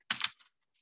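A computer keyboard clicks through a couple of quick, close keystrokes in a short burst, followed by a faint trailing tap in otherwise quiet surroundings.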